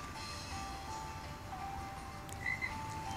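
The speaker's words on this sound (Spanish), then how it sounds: "Acá hay otra rana." A frog croaks in a swamp level of the video game Fancy Pants Adventure, a few short croaks over a steady background hum, with some thin tonal music lines.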